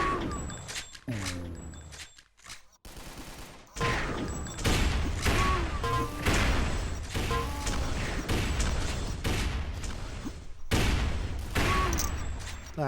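Rapid rifle gunfire in a video game tournament match, dense bursts of sharp shots cracking one after another across the whole stretch, with brief lulls and some metallic mechanism clicks between volleys.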